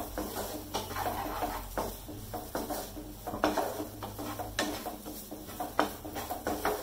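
Cauliflower egg podimas is stirred in a pan, a quiet run of spoon scrapes and metallic clinks against the pan, with faint sizzling underneath.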